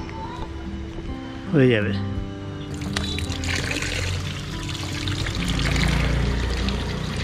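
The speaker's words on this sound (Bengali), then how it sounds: "আমি এখন পুকুরের জল নিচ্ছি" Pond water is scooped up and poured, giving a continuous splashing trickle at close range while a person speaks briefly over it.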